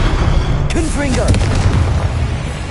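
A Confringo blasting spell explosion in the Hogwarts Legacy video game: one sharp, loud boom landing close, followed by crackling burst debris and a shouted voice over the din.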